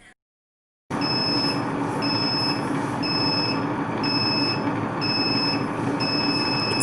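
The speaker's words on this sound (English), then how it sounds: "a buzzer sound will be heard." Buzzer on an Ultra Perfect+ wet grinder sounding during batter grinding, a repeating high beep pulsing about once a second over the loud steady motor hum.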